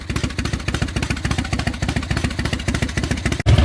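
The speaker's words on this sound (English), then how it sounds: "That idle might be a little bit low, but I'm gonna let it sit here and run" Harley-Davidson EVO motorcycle engine idling slightly low after an intake seal replacement, a loud close-up uneven lumpy potato-potato beat pulsing steadily, with a brief knock near the end.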